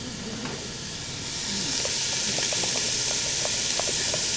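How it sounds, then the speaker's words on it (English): Pancetta sizzling in a hot pan with no added fat, a steady close hiss that swells after the first second and then holds, with small pops and crackles scattered through it. "So we got the pancetta in the pan, no fat needed, enough fat's in that"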